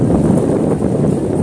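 Steady, loud wind at Dolomite Beach on Manila Bay buffets the microphone with a deep rumbling roar throughout, no voices.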